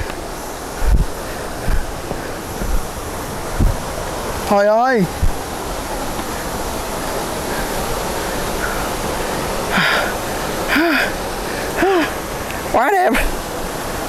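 Steady rushing water from a long waterfall in Vietnam runs as a constant broadband wash through the whole scene, with excited voices talking over it in bursts.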